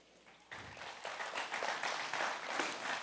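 A church congregation breaks into applause that starts abruptly and holds steady at a moderate, fairly close level.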